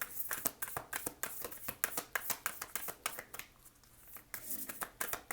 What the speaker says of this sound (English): These are a little hard to shuffle because they're so big.